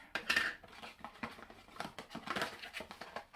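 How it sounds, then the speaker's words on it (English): A box of plastic canning lids with rubber gaskets opened up close, giving quick rattles, light clicks and plastic clatter in short uneven bursts over a few seconds, with no voice. "I'll open the box and show you."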